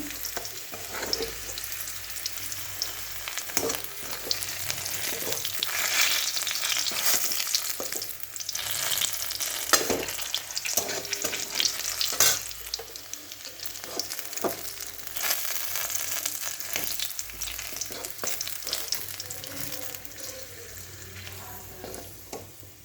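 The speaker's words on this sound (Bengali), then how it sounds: "পেঁয়াজটা ভাজা হয়ে গেছে হালকা করে" Onion frying lightly in a pan, a continuous crackling sizzle with frequent stirring and scraping, loud and close, with faint watery hiss and no talking.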